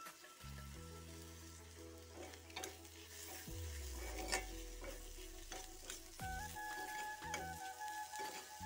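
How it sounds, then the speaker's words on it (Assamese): Small fish go into a pan of simmering Assamese khar, bringing a bubbling sizzle with stirring and soft utensil clinks, close and fairly quiet. "ইয়াতে মই খাৰখিনি ঢালি দিছোঁ। এতিয়া সৰু মাছখিনি দিম।"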